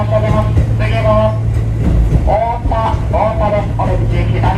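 Kotoden Kotohira Line commuter train running on the line, a steady rumble with low wheel hum and faint rail noise throughout, plus short tonal whines rising and falling as it moves, with brief voice-like sounds in the cabin.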